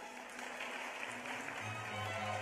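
An audience at a teacher of the year celebration applauds a first grade teacher, a faint steady wash of clapping from a distance that carries on throughout the clip.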